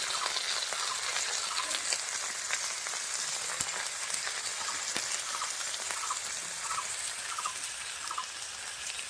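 Ground spice pastes of onion, cumin and ginger hitting fried onions in a hot pan, giving a steady, bright sizzling hiss that holds evenly throughout with small crackling pops.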